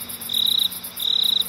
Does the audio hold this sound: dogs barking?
no